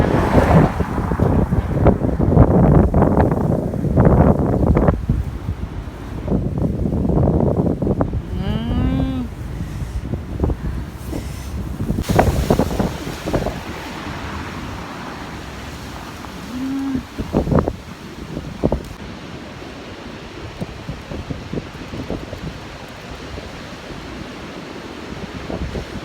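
A strong storm wind roars outdoors, buffeting the microphone in loud, rough gusts throughout, while cattle moo a couple of times in the distance.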